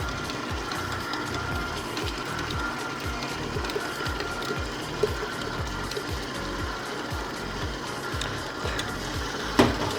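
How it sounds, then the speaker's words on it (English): A stand mixer turns at a low-to-medium setting as whole milk is slowly added to a silky batter, giving a steady, even mechanical churn with a faint rhythmic slap throughout and no talking. "if you're using a stand mixer at home, I'm on speed number 2"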